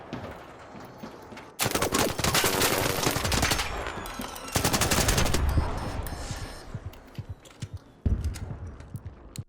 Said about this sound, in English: The only reason I won that fight is because I had my gun out.